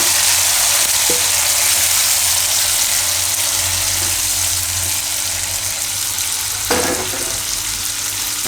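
Tomatoes go into a hot pan where cashews and peanuts are frying, giving a steady loud sizzle with brief splashy bursts as they hit the oil and are stirred; no one speaks.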